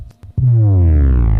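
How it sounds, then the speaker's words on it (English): Downer sound effect from a music production sound pack: a brief sputter of clicks, then a loud, sustained tone sliding steadily downward in pitch, full and close with no talking. "the downers sound like this."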